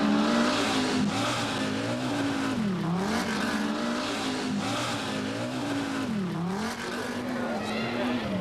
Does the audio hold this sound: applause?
no